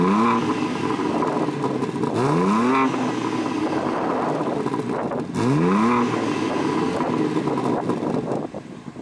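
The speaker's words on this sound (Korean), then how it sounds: "배기 사운드 같은 경우에는 이걸 껐을 때랑 켰을 때 차이가 꽤 많이 나요" A BMW M3 Competition in Toronto Red with its variable exhaust switched on gives a steady deep droning hum, with two rising revs that sweep up and settle back, close and continuous.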